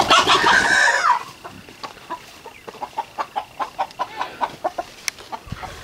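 A rooster crows loudly at first, then hens cluck in a steady series of short, regular clucks nearby.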